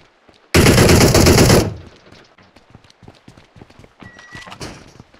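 A loud burst of rapid automatic gunfire in PUBG lasts about a second, then fades into scattered lighter clatter and distant shots.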